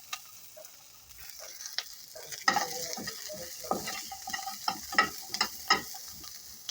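Small puti fish and ingredients fry in a little oil in a home kitchen pan, a steady soft sizzle with intermittent stirring clicks and scrapes.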